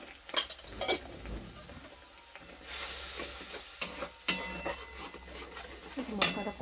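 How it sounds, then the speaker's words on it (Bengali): Spices with salt, turmeric, red chili powder and powdered jaggery being stirred and fried in a pan, a steady sizzle under repeated scraping and clinking strokes of a utensil, close and moderately loud. "মশলাটা কষা হোক।"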